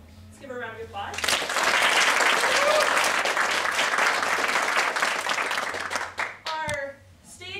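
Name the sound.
audience applause for the makeup artist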